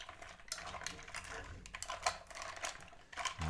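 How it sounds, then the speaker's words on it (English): Mussels stirred through oat milk and parsley in a pot, a steady run of clinking, scraping taps of shells and utensil against the pot, close and busy for several seconds with no talk. "I'm going to stir it all in"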